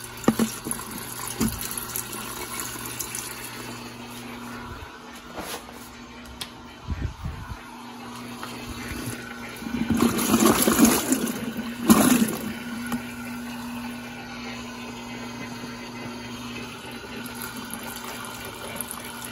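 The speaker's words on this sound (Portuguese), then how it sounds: "coloco um pouquinho da água para dar uma enxaguada aqui dentro dela" Water pours into a Brastemp Eggo 1 kg mini washing machine (BWI01) for a rinse, a gushing fill that swells midway for a few seconds among quieter trickling and clunks.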